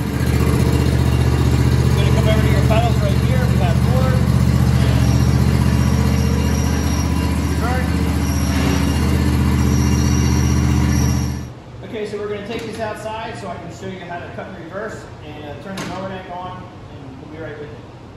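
A John Deere S240 riding lawn mower engine runs on choke with a loud, steady droning hum. It cuts off abruptly partway through, and people are then heard talking.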